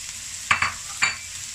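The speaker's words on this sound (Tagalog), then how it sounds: "Dadagdagan ko lang ng kaunting cooking oil. And then, igigisa itong sibuyas." Onions sautéing in a little cooking oil in a pan, a soft sizzle with a few short bursts of stirring and scraping, close and fairly quiet, no talking.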